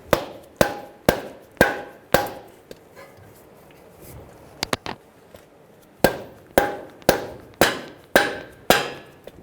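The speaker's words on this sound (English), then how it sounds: "using a soft face hammer, we're going to hit the axle onto the stub." Sharp, heavy soft-face hammer blows drive a CV axle onto the stub of a 2003-2008 Honda Pilot in a steady rhythm, with a pause and a few lighter taps in the middle before the regular strikes resume.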